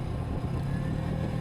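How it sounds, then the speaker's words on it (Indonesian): Engine braking from a Kawasaki W175 motorcycle descending a long downhill road, heard as a steady, rough low rumble that holds constant and close throughout with no voices. "Dan memang bisa terdengar ya, engine brake mesin sudah sangat kasar dari tadi."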